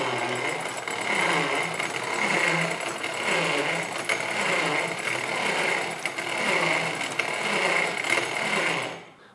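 An old electromechanical flip-dot display rattles through its dots in a dense, continuous clatter that pulses in regular waves, close and loud, before cutting off at the end.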